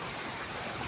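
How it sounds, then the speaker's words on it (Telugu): Steady rain falling outdoors and soaking the ground, an even wash of dense drops with no other sounds. "ఒకసారి వర్షం బాగా పడుతుంది"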